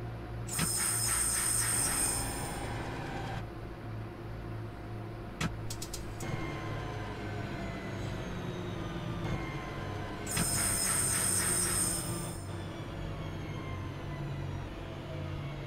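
A Birmingham Cross City line train in Train Sim World 2022 braking into a station, with a steady low rumble and hiss of air brakes, two bright high-pitched squeals near the start and end, and some mechanical clunks.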